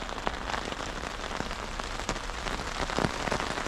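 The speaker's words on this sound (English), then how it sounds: "hearing the pitter patter of rain, it's very soothing" Rain pattering on plastic stretched over a camping hammock in a hailstorm, a close, steady hiss broken by scattered sharp drop taps, with no voices.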